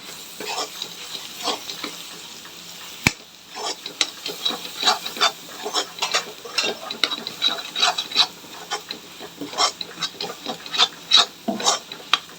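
Chili powder sautéing in a pan for tomato kurma, with a steady background sizzle broken by repeated scraping and clinking strokes of a spoon stirring, close and fairly loud, after one sharp knock early on.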